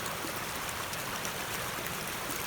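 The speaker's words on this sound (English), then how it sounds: "And this creek, Wolf Creek, is right behind our campsite." Wolf Creek flows right behind a campsite in Vogel State Park in North Georgia, making a steady, even rush of running water that continues unbroken and fairly quietly throughout.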